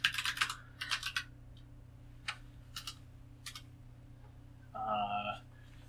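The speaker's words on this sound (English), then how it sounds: "I'm gonna be clickety clacking here for a second." Quiet bursts of clicking on a computer keyboard arrive in short irregular clusters over a low steady room hum, with a brief voice near the end.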